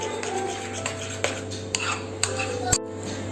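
Fruit crush and curd are stirred together in a bowl with a spoon, giving soft, regular clinks and scrapes of cutlery against the dish at close range.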